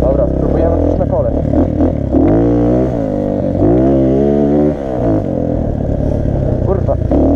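A Xmotos XB-88 enduro motorcycle revs up close as the rider tries a wheelie on a slippery surface, the engine note climbing and dropping in repeated loud surges.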